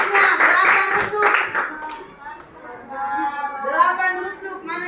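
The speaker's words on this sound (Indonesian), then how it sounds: "kasih tepuk tangan untuk Adika." Children in an elementary classroom clap together during a math lesson, with a burst of rhythmic claps near the start before a woman teacher's voice carries on speaking over the room.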